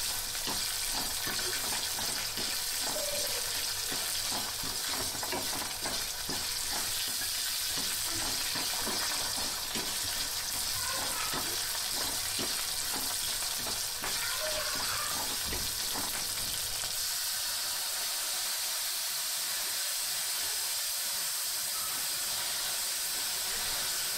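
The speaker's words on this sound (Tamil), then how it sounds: "வெங்காயம் வதங்கினோடனே நம்ம எடுத்து வச்சுக்க புளி தண்ணி ஊற்றிக்கலாம்." Tamarind water poured into a pan of sautéed onions while making fenugreek curry (vendhaya kuzhambu), giving a steady close sizzle and hiss that bubbles on throughout with no talking.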